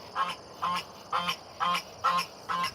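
A goose on a small farm honks six times in a steady, evenly spaced rhythm, each call short and nasal, fairly close and clear over a quiet background.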